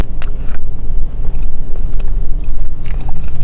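Close, loud bites and chewing of an eggnog tres leches Crumbl cookie, with soft crunchy crackles and wet mastication running continuously, no talking.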